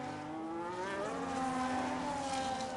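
Race cars in a video game race at the Jeddah circuit in Saudi Arabia, with engine notes rising and shifting as an Alpine overtakes. Several engine whines overlap at steady loudness with no talk.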